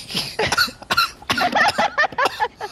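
Repeated harsh coughing, a rapid series of close, loud coughs and throat-clearing bursts with brief gaps between them.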